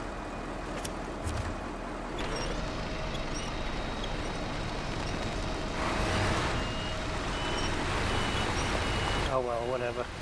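A SnowRunner truck backing up on a Tennessee map sounds a steady series of reversing beeps over a heavy engine rumble, with a brief voice-like warble near the end.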